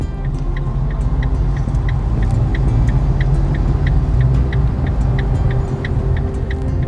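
Steady engine and road rumble from inside a car moving in highway traffic, with a faint regular ticking like a turn signal, no voices.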